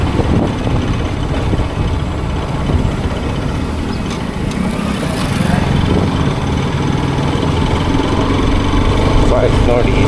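A motorcycle engine idles steadily near a beach, a low continuous rumble buffeted by wind noise on an action camera, growing slightly louder toward the end.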